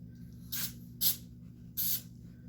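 Cooking spray squirted inside cups: three short, close hissing bursts from an aerosol can, separated by brief pauses.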